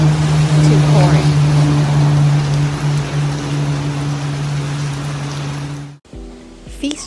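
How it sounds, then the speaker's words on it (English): Steady heavy Hawaiian rain pours down, hissing across the whole band with a low engine hum underneath, cutting off abruptly near the end. "just in time to appreciate the Hawaiian rain"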